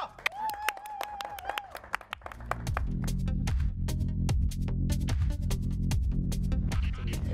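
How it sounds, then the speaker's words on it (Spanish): Loose clapping rises under music on a Mexican talk show as guest Susana Alexander is announced, with a whistle-like tone and voices early on before the applause builds. "¡Aplauso!"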